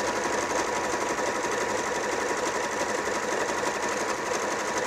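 A Janome 3160 sewing machine runs steadily, stitching a narrow stretch utility stitch for knits, with a fast even whir and needle chatter heard up close and alone.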